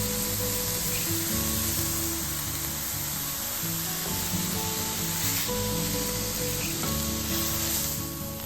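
Steady, continuous sizzle of ingredients cooking in a pan for butternut squash risotto, even and close throughout with no talking.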